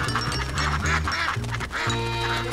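Several ducks quack in quick, overlapping bursts, loud and close, over a low murmuring background.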